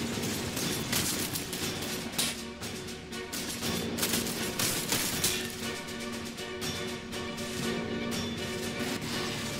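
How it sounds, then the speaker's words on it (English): Sustained machine gun fire rattles against a Chimera APC in the Warhammer strategy game Sanctus Reach, dense and continuous bursts with metallic impacts, loud and unbroken for the whole stretch. "considering they're only firing with machine guns, of course"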